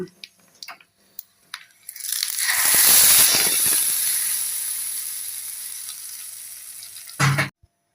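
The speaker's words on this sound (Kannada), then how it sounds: "ಈಗ ನೋಡಿ ಒಗ್ಗರಣೆ ಆಗಿದೆ, ಇದಕ್ಕೆ ಹಾಕ್ತೀನಿ ಈಗ." A few small clinks, then a sudden loud sizzle as hot oil spice tempering is poured into betel leaf tambuli, hissing strongly before slowly fading, ending with a brief clatter.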